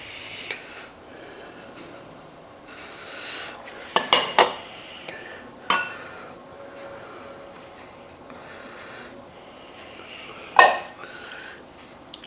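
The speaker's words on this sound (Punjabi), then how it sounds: "ਮੈਂ ਇੱਥੇ ਇੱਕ ਕੱਚ ਦੀ ਬੋਲ ਲੈ ਲਈ ਹੈ ਤੇ ਇਸ ਦੇ ਵਿੱਚ ਮੈਂ ਸਭ ਤੋਂ ਪਹਿਲਾਂ ਰਾਗੀ ਦੇ ਜਿਹੜੇ ਆਪਾਂ ਡੇਢ ਬੋਲ ਆਟਾ ਲਿਆ ਉਹ ਸਾਰਾ ਪਾ ਲੈਂਦੇ ਆ" Ragi flour tipped into a glass bowl, with a few clinks of a spoon against glass and soft scraping, close up, while a person talks quietly.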